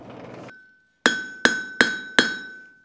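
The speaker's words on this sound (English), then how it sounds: "So I'm going to try to tap down those ridges a little bit." A hammer strikes a metal bar to flatten raised ridges while forging a farm tool bit, four sharp ringing taps at a steady rhythm after a brief scrape, close and loud with no speech.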